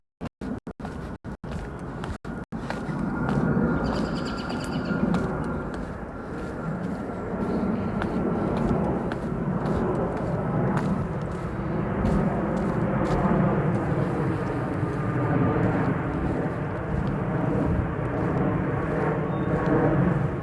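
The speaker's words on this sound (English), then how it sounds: "This looks like the airplanes are peaking the mic." Airplanes flying overhead on a walk through Washington Park Arboretum, a loud continuous roar that swamps the microphone for most of the clip after a few sharp knocks at the start.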